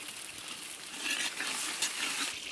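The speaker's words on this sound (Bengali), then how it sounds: "আর এদিকে মাছ ভাজা চলছে" Katla fish pieces fry in hot oil for a village kalia, a steady moderate sizzle with crackling spits rising slightly midway, with no talk over it.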